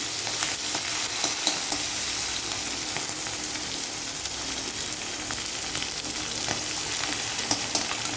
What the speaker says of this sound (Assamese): এতিয়া কেইটামান ভজাৰ কাৰণে মছলা মাছ ভাজিব দিলোঁ।